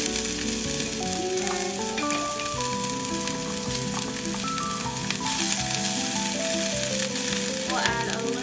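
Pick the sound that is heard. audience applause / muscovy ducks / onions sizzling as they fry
onions sizzling as they fry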